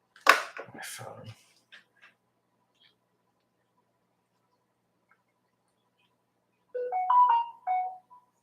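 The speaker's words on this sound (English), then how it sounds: "My phone." A phone ringtone plays at the end as a short, bright melodic phrase, fairly clear and close. It comes after a brief burst of voice and a quiet pause.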